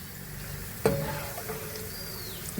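Ginger frying in hot oil for a ginger curry, a quiet steady sizzle with one sharp clink of a steel ladle against the pan.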